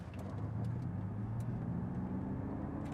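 A Ford Mustang Mach-E GT electric car launches hard from a brake boost, giving a loud, steady low drone and rumble with whine that holds throughout the short run, with no talking.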